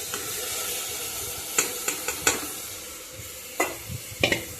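Meat is stirred in a cooking pot over a steady sizzling hiss, with several sharp utensil scrapes and knocks against the pot in quick clusters, close up and without talking.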